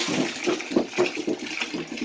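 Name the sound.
water poured into container with chopped apple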